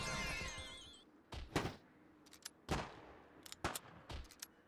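Explosions and gunfire in the video game Prime World: a sequence of sharp, punchy blasts and impacts at irregular intervals after an opening whoosh, fairly faint overall, with no talking.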